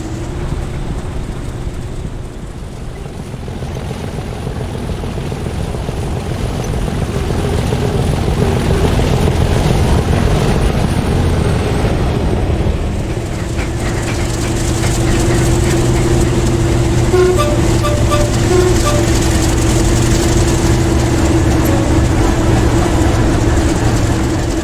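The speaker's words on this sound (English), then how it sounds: "The train, then led by 37407, will depart for LRL's depot at Saltmarsh." In a train simulation game, a heavy class 37 diesel engine drones and rumbles as a train pulls away, the tone rising and steadying, with mechanical whine and clanks over the long low roar.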